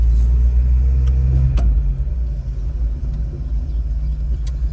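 A 1971 Datsun 240Z with its original L24 engine drives along, a loud, close, low rumble that eases slightly after a moment, with a few faint clicks over the steady road noise.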